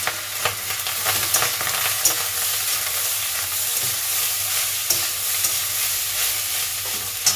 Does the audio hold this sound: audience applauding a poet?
no